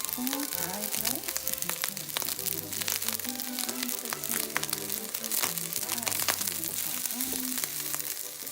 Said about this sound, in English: that's the fantastic pop and sizzle.